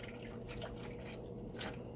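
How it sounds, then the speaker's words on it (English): Tap water trickles and drips into the top chamber of a Big Berkey water filter, a faint, close, uneven splashing with no talk. "I'm going to pour some Quest water into this to show you that."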